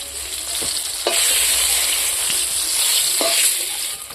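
Potatoes frying in a pan with poppy seed paste, salt and turmeric about to go in, giving a loud steady sizzle close by, punctuated by a few sharp scraping stirs of a spatula.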